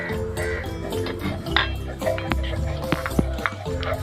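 A spatula stirs cashews and raisins in hot ghee, giving scattered metallic clinks and scrapes against the pan with faint wet crackle, while a voice talks softly nearby.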